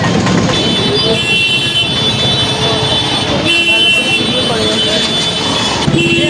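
Busy road noise in a traffic jam, with engines of autos and bikes, honking horns and a jumble of voices all around; people talk close by over the constant traffic din.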